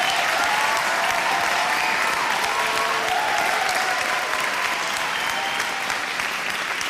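Sustained, dense clapping from an audience at an awards evening, loud and even throughout as the crowd applauds an Olympic victory, with a faint voice underneath.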